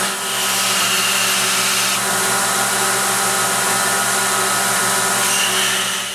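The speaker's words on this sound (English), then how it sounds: "I'll use this very small radius wheel to polish and shape the interior." A belt grinder whines steadily while shaping a woodturning roughing gouge, a loud continuous motor hum with grinding noise and a slight shift in tone near the start and end.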